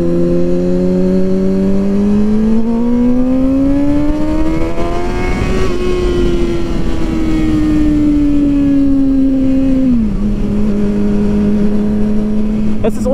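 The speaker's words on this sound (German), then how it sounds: "ich habe gerade ungefähr ein Viertel Gas gegeben" A 600cc motorcycle making 138 PS accelerates at about quarter throttle, its engine note climbing smoothly for several seconds, then easing off and dropping abruptly near the end before holding a steady drone.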